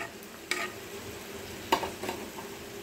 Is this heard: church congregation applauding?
no